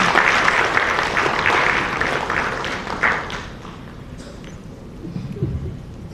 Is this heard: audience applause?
yes